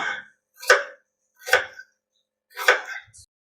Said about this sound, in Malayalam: ഇതേപോലെ ചെറുതായിട്ട് ഇങ്ങനെ സ്ലൈസ് ആയിട്ട് സബോള കരിഞ്ഞു കൊടുക്കാം